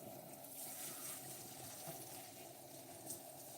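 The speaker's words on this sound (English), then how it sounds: "And I'm rinsing her hair in cool water, more like a cold water." Cool tap water runs steadily into a sink while a doll's synthetic wig hair is rinsed, a soft continuous splashing hiss at low volume.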